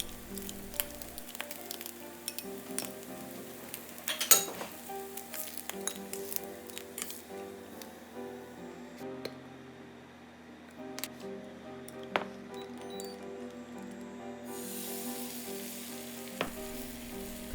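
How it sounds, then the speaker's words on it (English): An egg fries in a pan for Okinawan pork egg onigiri, a soft, steady sizzle with occasional sharp clicks and utensil taps, set under quiet background music. "Fry an egg."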